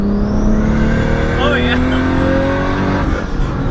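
A 1995 single-turbo Toyota Supra pulls hard under boost, its engine note climbing loud and close over a steady road roar, while a person speaks briefly over it.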